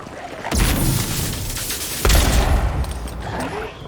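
Burst of gunfire in the video game Avowed, loud and close, with two heavy onsets of rapid overlapping shots and booming blasts that keep rumbling between them.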